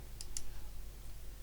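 Two quick, faint mouse clicks close together near the start while editing in DaVinci Resolve, then quiet room tone.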